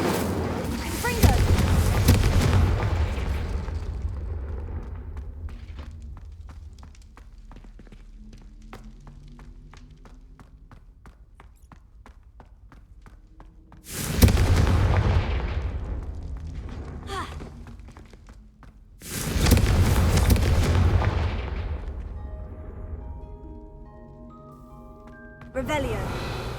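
A Confringo blast spell in the Hogwarts Legacy video game bursts out in loud, broadband booms, two main explosions a few seconds apart with a third starting at the end, separated by quieter game ambience.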